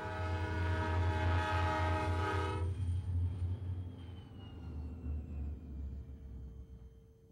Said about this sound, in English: As the train approaches the turnaround point, it's an incredibly beautiful morning